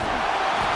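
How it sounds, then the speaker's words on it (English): Stadium crowd roar in an EA Sports college football game, Alabama at South Carolina, a steady dense wash of cheering and noise at a red zone defensive stand, loud and continuous throughout. "And here comes the noise. This crowd is trying to inspire this defense"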